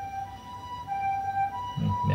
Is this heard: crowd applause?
no